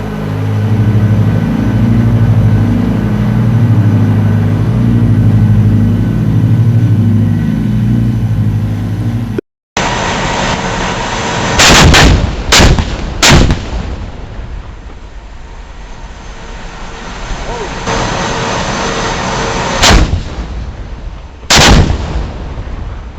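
An M1 Abrams tank fires its main gun during Table VIII gunnery qualification, heavy booming blasts landing in a few spaced bursts over a loud, steady rumble, with a brief dropout partway through.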